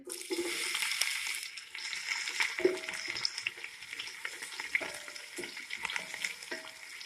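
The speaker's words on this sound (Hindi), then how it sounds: "और प्याज को इतना फ्राई करेंगे कि इसका एक प्यारा सा गोल्डन सा कलर आ जाए।" Onions fry in hot oil in a deep pot for junglee pulao, a busy crackling sizzle with intermittent stirring scrapes and faint clinks, close and fairly loud throughout.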